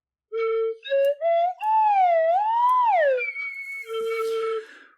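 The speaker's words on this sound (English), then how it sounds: "I really need to upgrade my slide whistle." A cheap, roughly seven-dollar plastic slide whistle plays a short wobbly tune, with steady pure tones sliding up and down in pitch across several separate notes, loud and close, with no talking.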